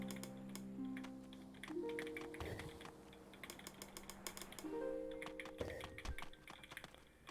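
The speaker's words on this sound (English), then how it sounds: "Oh, yeah, the clacky keyboard." Rapid clacky typing on a mechanical PC keyboard, a dense run of sharp close keystrokes in irregular bursts, with faint tonal game music underneath and no talk.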